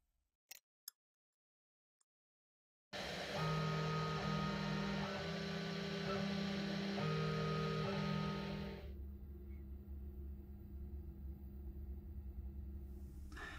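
A Genmitsu PROVerXL 6050 Plus CNC machine from Sainsmart starts up for an engraving job after a few faint clicks, with a loud steady motor whine and rumble that later drops to a quieter hum with some tonal changes.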